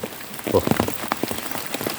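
Heavy rain pours down outdoors, a dense continuous patter of drops drumming on surfaces, steady and fairly close with no voices.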